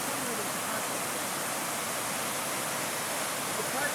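A river splitting a park rushes past in a steady, broad, fairly loud wash of flowing water with no letup, and a soft voice is barely audible beneath it.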